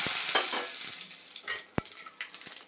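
Cumin seeds frying in hot oil as a tempering: a loud, steady sizzle close by, broken by scraping stirs and a few sharp clicks of a spoon against the pan, with no talk.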